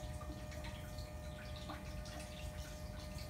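Water flows steadily through a stream table model, carrying soil along a curving channel past cut banks and point bars, making a continuous close trickling and rushing wash with no pauses.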